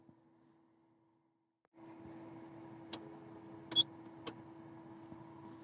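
A small Wuling Air EV electric car pulls away almost silently: a faint steady hum with a low whine starts after a short hush, broken by a few soft clicks and taps, with no talking.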